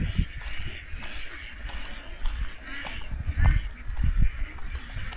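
A flock of ducks at a duck farm gives repeated, overlapping quacks over a constant low rumble, with calls rising and falling in loudness throughout.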